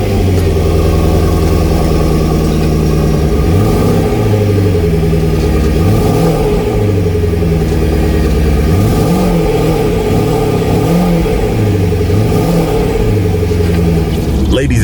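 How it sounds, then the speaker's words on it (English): A Porsche Panamera Turbo engine cold-starts and idles with a loud, steady rumble, swelling in a few rev bursts before settling back. "here is what this car sounds like under a cold start"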